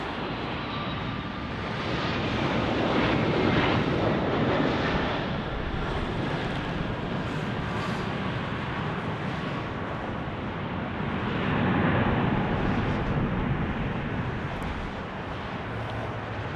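An Aeromexico airliner passes at Las Vegas, a loud, sustained jet roar that swells, eases and builds again, with gusty crosswind noise and no talk.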